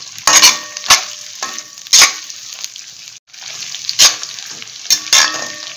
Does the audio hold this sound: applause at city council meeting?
no